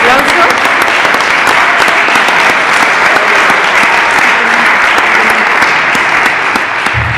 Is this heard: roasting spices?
no